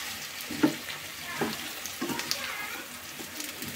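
A village-style drumstick curry being stirred after salt goes in, with soft scraping strokes at a steady pace over a constant low sizzle and bubbling.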